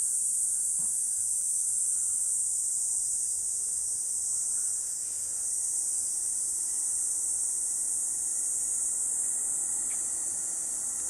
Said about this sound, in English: Now you're going to hear the cicadas.